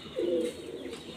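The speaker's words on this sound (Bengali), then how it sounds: "এটা হচ্ছে মেল পায়রা" A male pigeon of the Mundi Sada Jiriya breed, held in the hand, gives a single low throaty coo up close, followed by a softer trailing murmur.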